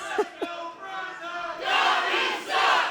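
A single man in a wrestling crowd lets out two sharp, loud shouts, followed by a broader swell of crowd cheering rising and falling over about three seconds.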